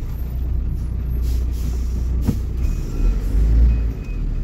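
A DAF truck rolls by on a highway in Alagoas, Brazil, its low engine rumble steady and close with a brief hiss midway, swelling louder toward the end.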